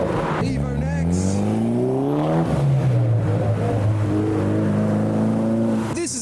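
A Mitsubishi Evo accelerates past after leaving a car show, its engine note rising loud and close over roughly five seconds before fading, with crowd chatter and other voices underneath.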